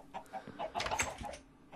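Chickens in a Minecraft chicken coop give a short run of close, soft clucks and squawks, a few bursts clustered together with no speech.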